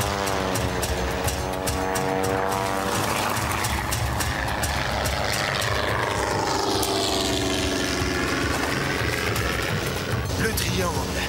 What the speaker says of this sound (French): J'ai cru que cet avion nous cherchait.